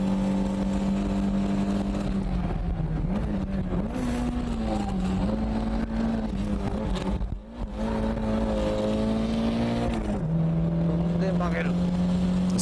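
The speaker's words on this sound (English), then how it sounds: "Step on the gas to make it turn." Toyota AE86 accelerating hard while drifting through a turn, its engine a loud, sustained high-rev drone that wavers and dips as the throttle is worked, with a short drop in revs before it picks back up.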